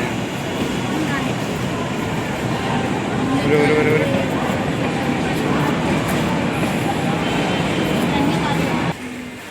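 A train rumbles and clatters past nearby, a loud, steady roar of wheels on rails that continues throughout.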